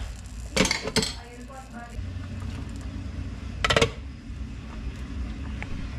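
A lid goes onto a metal cooking pot of sinigang na bangus, giving two sharp clanking strikes a few seconds apart, each followed by a short rattle, over a low background hum.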